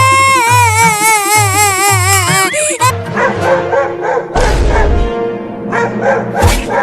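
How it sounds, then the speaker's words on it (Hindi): A dog barks, yips and whimpers at a tree, loud and close, mixed with a warbling siren-like tone early on and bursts of noisy commotion. "कुत्ता पेड़ पर से लगता है अब पेड़ पर चढ़ जाएगा"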